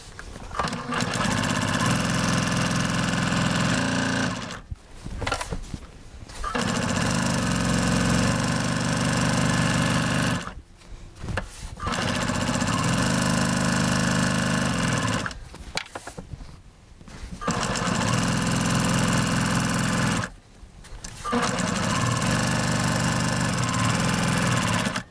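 A Baby Lock Accomplish sewing machine runs in steady fast stitching bursts of several seconds each, separated by short pauses, with a loud, even mechanical whirr close up.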